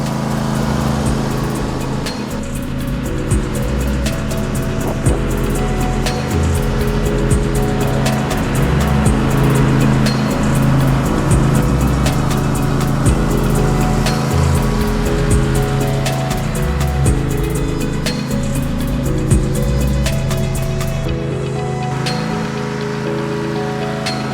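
A riding lawn mower's engine runs steadily and loud the whole time, with a continuous low rumble and rattling vibration as it drives over bumpy ground, and no one talking.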